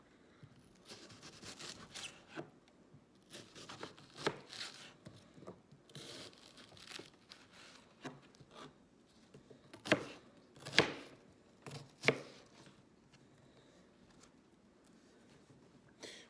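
Vegetables being cut with a knife on a board for shepherd's pie, quiet irregular chopping taps and scrapes, with a few louder knocks toward the end, close and faint with no voices.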